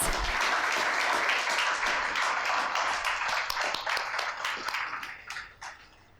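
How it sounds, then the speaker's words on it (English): An audience at a women's entrepreneurship event claps for the dignitaries on the dais, brisk applause that holds steady and then thins out and fades toward the end. "give a big round of applause to all our dignitaries on dais"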